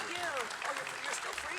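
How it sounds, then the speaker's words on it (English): Dense audience applause for actor Steven Ogg fills a brief moment, steady and moderately loud, with a voice briefly heard over it. "Round of applause for yourselves and for Steven Ogg."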